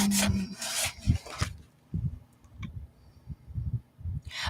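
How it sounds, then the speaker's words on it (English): Wood being sanded by hand, heard as rhythmic rubbing strokes, close and moderately loud, with brief pauses between passes. "I need to sand it."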